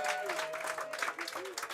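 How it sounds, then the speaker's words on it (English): Audience applause for a poet at a poetry reading, a brief burst of clapping from the crowd with a few whoops and voices mixed in. "Give a huge round of applause for Eric"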